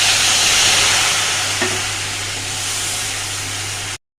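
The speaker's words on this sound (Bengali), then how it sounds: "এবারে দিয়ে দেবো গুঁড়ো মশলাগুলো, হলুদ আর হচ্ছে ধনে জিরের গুঁড়ো" Ground turmeric, coriander and cumin hit hot oil in a pan with a steady, close, broadband sizzle and hiss that fades slightly toward the end, with no talking.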